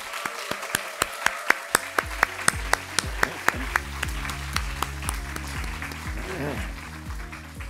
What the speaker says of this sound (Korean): 우리 격려하는 뜻에서 다 같이 한번 격수, 박수 한번 칩시다